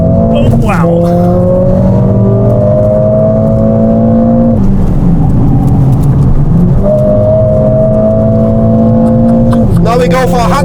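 Mercedes-AMG car at speed on the Nürburgring, its engine droning loud and steady from inside the cabin with rising pitch and quick gear shifts, while someone talks over it.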